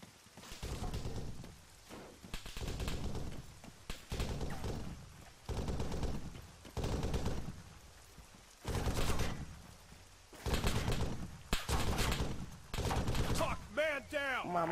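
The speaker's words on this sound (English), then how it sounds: "Mamă, frate, ce se trage!" Bursts of gunfire in the Arma 3 military shooter, several loud volleys of rapid shots separated by short pauses, with someone talking between and over them.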